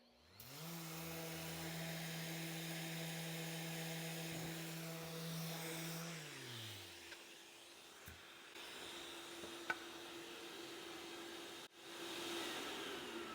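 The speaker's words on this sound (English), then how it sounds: "We have the 5-inch ray sander from Surf Prep here." A 5-inch Surf Prep random orbital sander running on a wooden curve, a steady whirring hum with a tonal whine that winds down and stops partway through, followed by quiet rustling and faint handling sounds.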